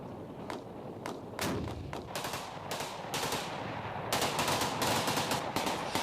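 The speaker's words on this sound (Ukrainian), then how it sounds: "Ось відео, де прикордонники обстрілюють з даху будинку" Gunfire from Ukrainian border guards shooting from the rooftop of a building: sharp repeated shots in irregular bursts, some close and loud, with volleys growing denser toward the end over a constant noisy background.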